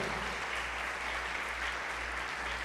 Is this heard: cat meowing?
no